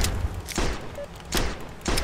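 Gunshots in the Alien Survival video game, three loud bursts of fire spaced roughly evenly apart, each a short blast with a low thump, close and alone.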